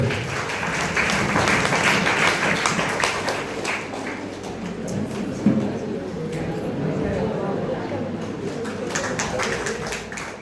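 A college audience claps steadily through a mentorship programme at a government first grade college, the dense applause holding fairly loud and then easing slightly, with voices mixed in.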